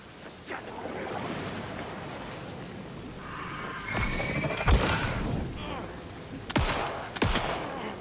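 Gunshots in the video game Alan Wake 2, several sharp loud bursts near the end over a tense rumbling game ambience with scattered crashes.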